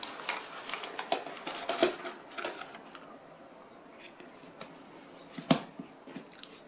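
A 230 isobutane gas canister being stacked into an MSR WindBurner pot gives sparse metallic clinks and light knocks at irregular intervals, close by and fairly quiet.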